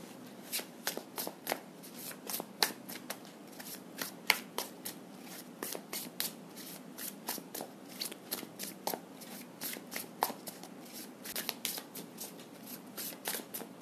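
Tarot cards being shuffled by hand in a long run of crisp, rapid riffling and snapping bursts, fairly close and quiet, with no talking.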